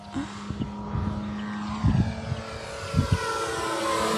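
A radio-controlled PT-17 Stearman biplane model, 1600mm span, makes a low pass, its propeller engine droning steadily in open air with gusts of wind and a few soft knocks breaking up the hum.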